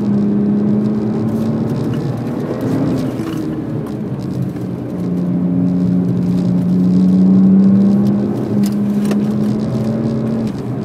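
A BMW 1M accelerating on a race track at a performance driving school, heard from inside as a steady loud engine drone that rises in pitch through gears, with a brief dip and a swell toward the end.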